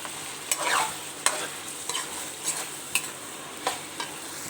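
Minced meat fries in hot oil with coriander and green chilies, a steady close sizzle broken by repeated scraping strokes of a spoon stirring the pan, with no talking.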